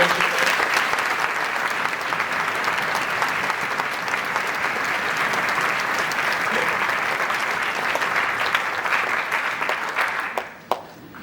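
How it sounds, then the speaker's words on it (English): A large audience at a region band concert at Valdosta State gives a long, steady round of applause, dense and even for about ten seconds before it quickly dies away to a few last claps. "How about a round of applause for Dr. Poor?"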